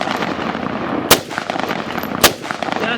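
A CZ Bren rifle fires unsuppressed on its larger gas port setting, two loud, sharp cracks about a second apart at an outdoor range over steady background noise.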